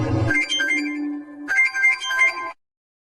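A mobile phone ringtone plays a bright electronic melody, loud and close, in two bursts with a short break between them and no voices over it.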